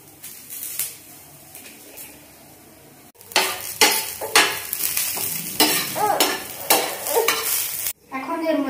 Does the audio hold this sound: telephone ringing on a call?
no